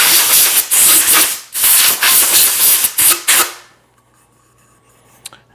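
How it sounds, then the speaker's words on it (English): Bursts of compressed air from an air hose hiss loudly in several pulses for about three and a half seconds, blowing sanding dust off a powder-coated tumbler, then stop, leaving faint room noise and a small click. "Blow off just the sanding dust."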